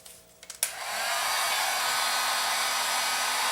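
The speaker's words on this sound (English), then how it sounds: "I'm going to fire up my old trusty heat gun and heat this up even more." A heat gun blows steadily after switching on with a sharp click, a constant loud broadband roar aimed at a bolt on the fork of a Honda CB motorcycle, with faint handling noises before it starts.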